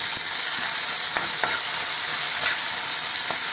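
Ginger garlic paste fries with onions in a pan, giving a steady bright hiss with a few faint clicks and scrapes from stirring.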